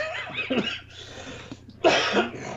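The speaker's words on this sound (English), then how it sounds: "he's got that reefer cough" A couple of rough, hacking smoker's coughs from smoking weed, close to the mic, separated by a short pause, with a faint low hum underneath.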